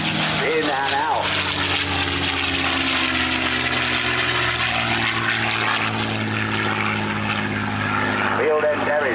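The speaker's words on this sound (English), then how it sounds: "Here comes Mustang. Big sweeping turn there, yes." A P-51 Mustang propeller aircraft roars past at an airshow in a big sweeping turn, a loud, sustained engine drone whose pitch shifts as it banks. An announcer talks over the engine noise throughout.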